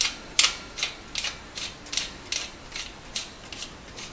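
A bottom bracket bearing ring is turned by hand into the threads of a Schwinn Airdyne exercise bike frame, giving a series of roughly ten faint, evenly spaced metallic ratcheting clicks up close.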